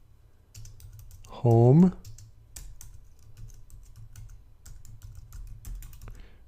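Quick, soft keystrokes on a computer keyboard as a Linux terminal command is typed, a steady patter of light clicks running under a single brief spoken word.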